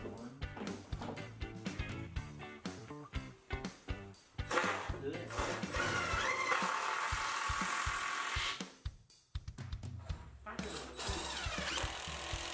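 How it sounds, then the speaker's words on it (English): A power drill driving screws into MDF sheet while a storage mezzanine shop loft is built whirs in repeated short bursts and longer runs, with brief pauses and workshop clatter between them. "Here's some more drilling and screwing for you to watch."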